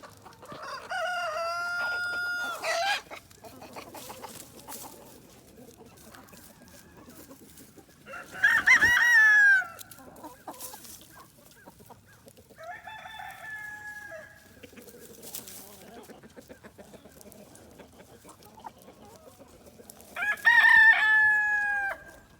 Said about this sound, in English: Here's a little leg bar hen.